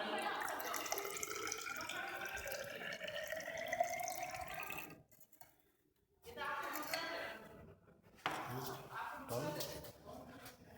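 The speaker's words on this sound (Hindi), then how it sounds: "इसको गर्म पानी को इसमें डालेंगे" Hot water is poured from a container into a thermos during a chemistry practical, a splashing gurgle that pauses briefly and then resumes, with talk over much of it.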